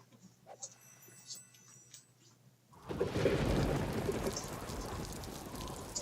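In the video game Wizard101, after a few faint ticks and a low hum, steady rain suddenly starts up, a dense hiss of falling drops continuing to the end.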